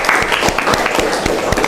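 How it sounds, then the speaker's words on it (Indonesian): A class of students claps together in a classroom: a brief, close and loud burst of steady clapping with no talk over it. "Tepuk tangan ya."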